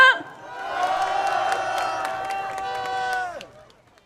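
An audience claps and cheers to welcome a guest onto a comedy show stage, with steady applause and whoops building and holding for about three seconds, then cutting off sharply.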